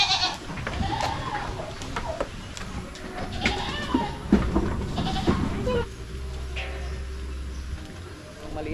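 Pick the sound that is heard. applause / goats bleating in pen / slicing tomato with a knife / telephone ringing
goats bleating in pen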